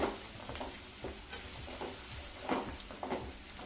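Chopped vegetables frying in oil in a pan for Kannada-style vangi bath, a faint steady sizzle broken by a few soft scraping stirs, with no talking.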